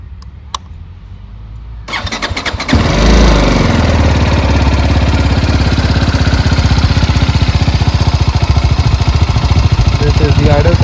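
A BMW G310 GS motorcycle engine cranks and catches, roaring to life, then settles into a loud, steady, throbbing idle close by.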